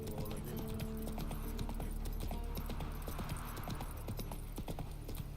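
Hooves of Roach, a horse in The Witcher 3, clopping in a steady close rhythm of many footfalls throughout, with game ambience beneath and a voice speaking over it.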